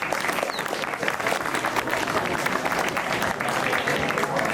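A school audience at an Independence Day ceremony claps enthusiastically, a dense, steady roll of many hands sustained throughout without pause.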